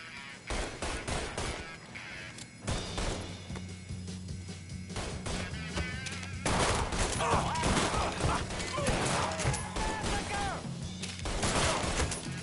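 Dense gunfire in the Mafia 3 video game, rapid bursts of shots and heavier blasts in a loud, continuous firefight with game music underneath.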